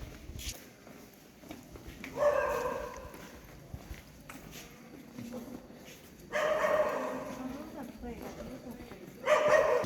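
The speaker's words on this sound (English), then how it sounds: "there is a dog amongst all these cats" A dog on a night street in the medina of Sousse, Tunisia, letting out a few short bursts of barking among ambient street noise, with people talking nearby.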